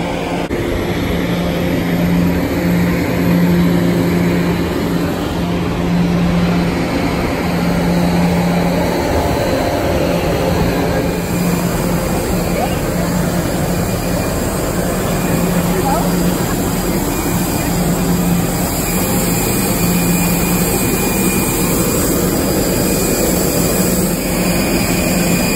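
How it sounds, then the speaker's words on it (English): Loud, steady airplane engine roar from inside or beside an aircraft in Michigan, continuous throughout with a constant droning whine and no break. "Plane, look at that."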